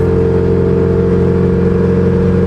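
STI-swapped Subaru GC8 race car with its flat-four engine under load, a loud, dense and steady mid-pitched drone that holds evenly throughout, heard close from inside the car.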